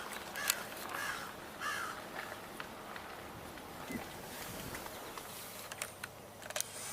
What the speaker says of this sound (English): I'm hearing an osprey.